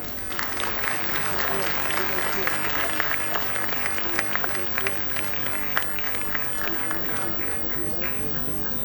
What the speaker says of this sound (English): Please welcome Sir with a huge round of applause.